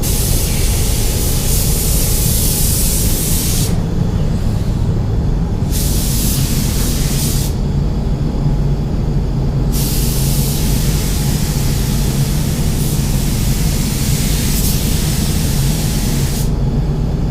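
A spray gun laying clear coat over base coat hisses loudly and continuously, its airy rush briefly thinning between passes before resuming.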